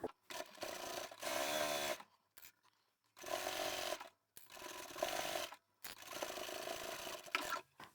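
A sewing machine stitches side seams on scrap fabric for a bag, running in four bursts of a couple of seconds each with short silent gaps between them, close and clear.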